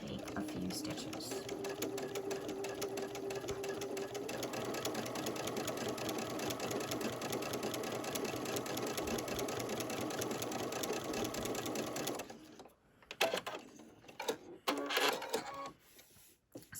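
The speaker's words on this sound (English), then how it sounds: "just take a few stitches" A sewing machine fitted with a deluxe walking foot and stitch-in-the-ditch sole runs steadily for about twelve seconds with a fast, even mechanical chatter, then stops, and a few softer handling clicks follow.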